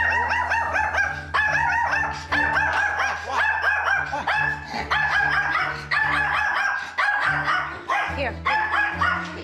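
Jake the dog barks repeatedly and loudly in a rapid, agitated series, close by, with a person briefly speaking over the barking.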